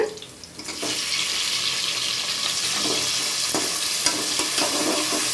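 Chopped tomatoes go into golden sautéed onions in a pan while cooking meal maker biryani, producing a steady, close sizzle with occasional stirring scrapes and clinks.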